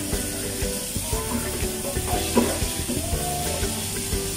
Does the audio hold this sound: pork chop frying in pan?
yes